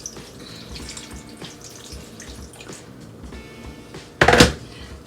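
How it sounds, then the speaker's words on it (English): Faint kitchen clatter and drips, then a short, louder burst of water pouring into an Instant Pot pressure cooker near the end. "Then I'm gonna add some more water."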